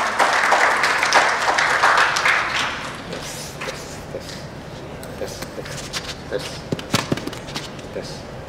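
Audience applause greets a managing partner at a corporate procurement talk, a dense burst of clapping for about three seconds that fades as a speaker begins talking at a podium.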